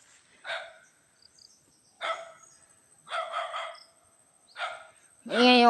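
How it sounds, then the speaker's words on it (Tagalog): A dog barks several times at a distance, short separate barks spaced apart, followed by a closer yelping whine at the end. "Tinatahulan na kami ng aso."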